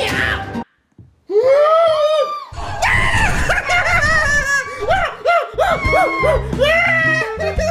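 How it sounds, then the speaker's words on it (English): Loud, shrill screams rise and fall repeatedly, a child or young person reacting to a Roblox Piggy horror game jumpscare, with brief laughter and a short silent gap near the start. "It's so funny when you scream."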